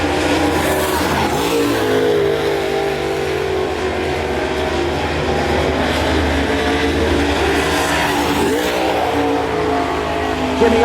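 A dirt track race car driven by Jimmy Owens in the No. 58, running a lap; a continuous loud engine roar holds steady throughout with a slight swell near the end, no talk over it.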